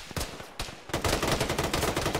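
Rapid bursts of automatic gunfire in an Arma military video game with ShackTac players, a few sharp shots followed by sustained, loud, dense firing with no one talking.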